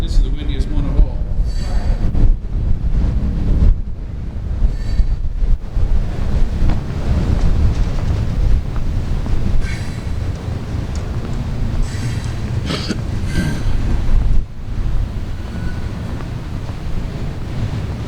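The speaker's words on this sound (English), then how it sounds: "Oh, that's windy. This is the windiest one of all." Strong wind buffets the microphone outdoors in heavy, continuous low rumbling gusts that swell and ease over the whole stretch, with brief voices breaking through now and then.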